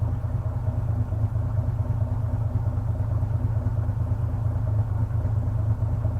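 A diesel-swapped Ford Econoline van idles smoothly and steadily, its low engine rumble holding an even, continuous note up close with no other sounds.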